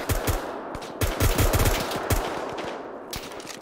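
Rapid machine-gun bursts crack out in the military shooter Arma 3 during a Ranger quick-reaction operation, several loud automatic strings close by with brief gaps and echoing tails.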